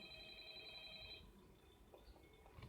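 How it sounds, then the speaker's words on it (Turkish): A telephone rings in the Five Nights at Freddy's Ultimate Edition video game, a faint electronic ring lasting about a second before fading under low background noise. "Telefon çalıyor."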